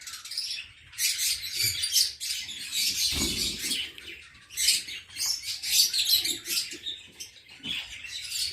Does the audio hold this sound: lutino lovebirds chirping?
yes